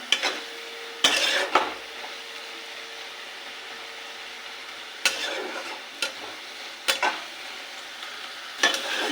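Spice paste fries in oil for an egg poach curry, a soft sizzle close by, broken by several sharp clanks and scrapes of a spatula against the metal pan.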